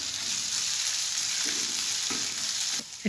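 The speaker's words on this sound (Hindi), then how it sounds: "अब 2 टेबलस्पून ऑयल लिया है, उसमें मैंने अदरक और कटी हुई मिर्चें डाल दी हैं।" Ginger and chopped green chilies sizzle steadily in two tablespoons of hot oil, a continuous close crackle with a couple of soft stirring knocks and a brief clatter at the end.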